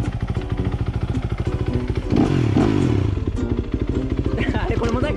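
Off-road motorcycle engine running in an outdoor riding session, a fast regular thumping idle that swells briefly into a rev partway through before settling again, with voices talking over it.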